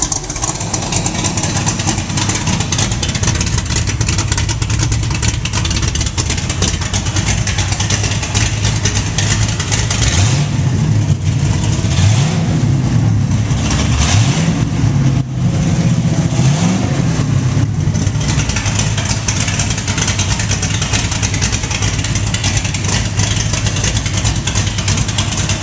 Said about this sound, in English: Here we're going to open up the cutout to see what it sounds like.